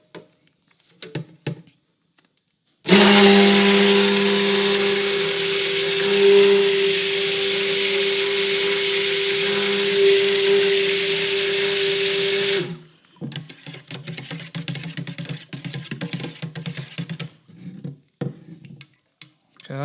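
Stick blender mixing soap batter made with rice bran oil in a pot, a loud, steady high-pitched whirring whine running for about ten seconds, framed by quieter clatter and handling sounds before and after.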